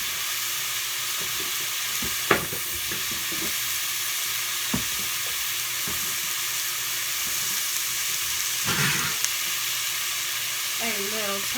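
Onion frying and being stirred in a pan for cheesy beef quesadillas, a steady close sizzle and hiss with a few sharp scrapes and clinks of a utensil, and a brief bit of speech near the end.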